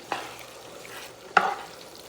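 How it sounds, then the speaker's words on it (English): Butter being stirred as it melts in a Ninja Possible Pro cooker: two short scraping strokes about a second apart over a faint sizzle, close and fairly quiet. "I'm going to stir it up, let it melt"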